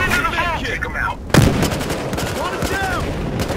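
Gunfire in Battlefield Hardline, a single loud shot cracking out mid-clip as someone talks excitedly over the game's other sounds.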